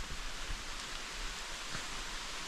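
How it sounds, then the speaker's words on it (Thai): Rain falls outdoors at a rural home, a faint, steady hiss of drops with no voices. "ฝนมาแล้วทุกคนเอ้ยบ้านนี้"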